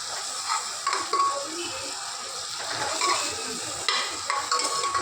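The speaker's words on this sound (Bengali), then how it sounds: "এবার আমরা নাড়াচাড়া করে নেবো।" Vegetables are stirred in a pressure-cooker pot over a low flame for chicken soup, with repeated scraping and clinking of a utensil over a faint sizzle.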